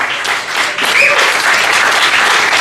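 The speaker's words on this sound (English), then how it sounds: "Jesse Thomas, give him a round of applause." Steady audience applause at a comedy roast in a Richmond, Virginia club, a dense wash of clapping that swells slightly and holds loud throughout, with no talking over it.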